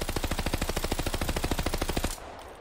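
A rapid, steady stream of automatic gunfire in Call of Duty: Vanguard, loud and close, running for about two seconds before cutting off abruptly into a short tail.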